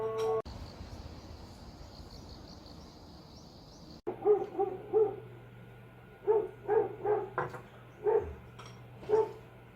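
A dog barks in a series of sharp, evenly spaced barks, near and fairly loud, after a few seconds of steady insect-like buzzing with no talk.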